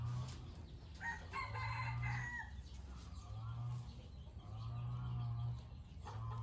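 Several fighting-breed roosters crow in repeated calls, one after another, at moderate distance on a Thai farm, with soft clucking and farmyard background between the crows.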